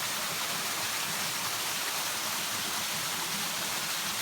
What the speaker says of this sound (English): I'm looking north at the waterfall.